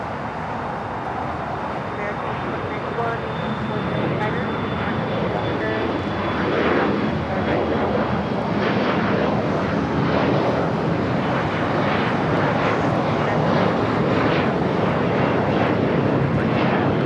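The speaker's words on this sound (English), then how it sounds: "Next takeoff is Alaska Sky West, flight 3432 to E175 LR." An Alaska SkyWest Embraer E175 takes off from runway 25 right at LAX, a loud, sustained jet engine roar that swells and holds throughout, with a commentator's voice talking over it at times.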